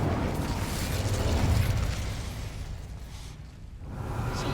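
The Incendio fire spell in a Harry Potter video game erupts as a loud, roaring whoosh of flame that swells, dips, then rises again against a dense rumbling game soundscape.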